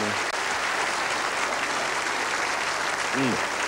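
Bowling crowd applauding steadily through a televised championship final, a dense wash of clapping that holds at even loudness, with a brief commentator's voice near the end.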